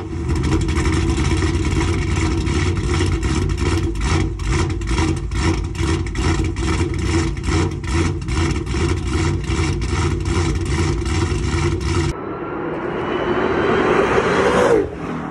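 A Honda Accord with a swapped-in Dodge Hellcat engine, modified to make over 1,029 horsepower, rumbles loud and close with a steady lumpy pulse for about twelve seconds, then shifts to a thinner whine that rises briefly near the end.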